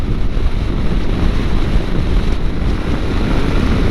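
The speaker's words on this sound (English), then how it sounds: "there's still enough wind noise I can't really hear it" Heavy, constant wind buffeting a microphone on a moving Yamaha Tenere 700 motorcycle fitted with a Yoshimura exhaust, a loud low roar with no other distinct sounds.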